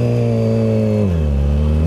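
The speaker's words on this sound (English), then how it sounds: "So it is a scooter behind us." A scooter engine idles and revs in traffic close behind a motorcycle, a loud steady buzzing drone that drops in pitch midway as the throttle eases.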